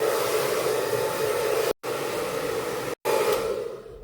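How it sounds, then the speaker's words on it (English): A hair dryer blows loudly and steadily while rough-drying hair, its close whooshing roar cutting out twice for a split second before carrying on. "the next phase is I'm going to rough dry my hair"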